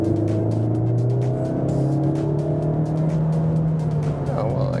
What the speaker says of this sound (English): if I then push the throttle, I'm coming to the tunnel now